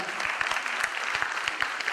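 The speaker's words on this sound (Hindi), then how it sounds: "तो उनके इसी पैशन के लिए एक बार जोरदार तालियां हो जाएं।" An audience claps for a singer at a ghazal concert, a brief, dense burst of applause with some individual claps standing out.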